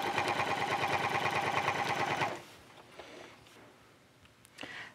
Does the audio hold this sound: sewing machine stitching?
yes